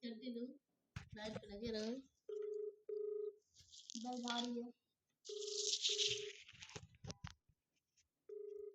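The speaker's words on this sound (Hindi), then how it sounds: "भाई रिंग जा रही है, फोन नहीं उठ रहा।" A mobile phone call rings out unanswered, its ringback tone sounding in regular short bursts between stretches of louder voices talking over it.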